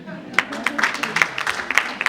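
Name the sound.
audience applause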